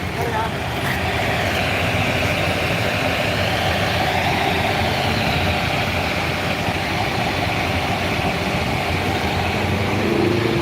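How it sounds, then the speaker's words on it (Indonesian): Steady low rumble of idling engines in slow, congested traffic at Bulak Kapal, Bekasi, Indonesia, a continuous wash of vehicle noise with a voice speaking faintly over it. "Macet kayak gini ya."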